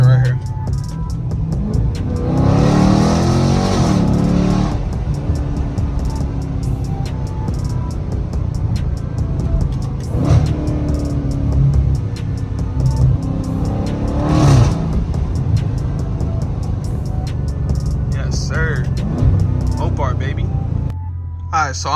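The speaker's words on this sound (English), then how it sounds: "that was a pretty decent launch control" A 2019-or-later Dodge Challenger Scat Pack launches hard under launch control, its V8 roaring up through the revs in loud, sustained bursts with brief lulls between pulls, while people talk over the engine noise.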